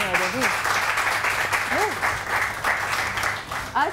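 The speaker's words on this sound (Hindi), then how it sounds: "मारिया जाहिद के लिए भी जोरदार तालियां हो जाए" Studio audience on a Pakistani morning talk show claps steadily for an arriving young celebrity guest, the applause running throughout beneath a host's voice.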